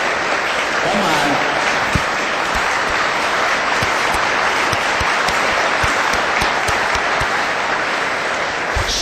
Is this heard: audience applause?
yes